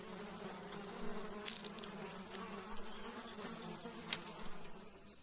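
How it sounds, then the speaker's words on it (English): Biting insects buzz steadily around a predator's nest that reeks of old kills, a constant droning hum with a few closer passes swelling briefly louder, no voices. "Biting insects are a constant torment."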